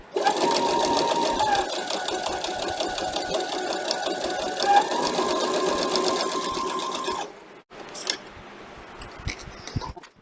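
A sewing machine stitches rows through quilt fabric made from panels, a steady, loud mechanical whirr running continuously for about seven seconds, then stopping and giving way to scattered handling clicks and rustles.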